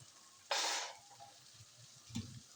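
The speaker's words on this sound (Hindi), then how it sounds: "इसमें डाल के फ्राई कर देंगे" Okra hits a pan with chopped garlic and ginger and gives a brief, sharp burst of sizzling that quickly fades, followed by a second, softer crackle a moment later.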